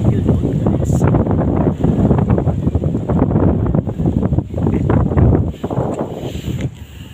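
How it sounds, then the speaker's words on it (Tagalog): Strong wind buffets the microphone at an outdoor shrine in Kaputatan, Medellin, Cebu, a steady loud roar with gusty swells running throughout, while a person talks over it. "natumba kasi malakas yung hangin"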